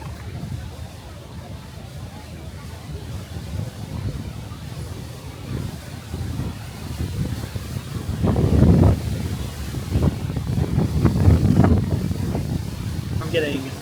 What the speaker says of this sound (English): It was 22 mile an hour sustained winds with gusts up to 40 miles an hour today.